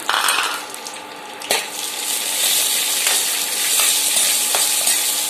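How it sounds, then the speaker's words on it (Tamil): Cashews and raisins fry in ghee in a kadai with a steady sizzle and occasional spoon scrapes and stirring clinks against the pan, close and continuous without talk. "இந்த சூட்லயே முந்திரி திராட்சை போட்டு வறுத்து எடுத்துக்கலாம்."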